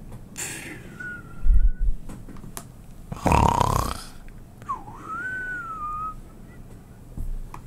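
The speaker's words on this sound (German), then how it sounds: "Nur sein Schnarchen verrät dir, dass ein regungsloser Körper noch lebt." Orion, a sleeping character in Disciples Liberation, snores in two loud, rough, rasping bursts, with faint whistling tones drifting between them.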